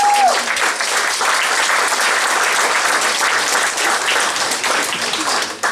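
Steady, dense applause from an audience at a panel discussion on Ukraine's war of independence, filling the room evenly and continuously.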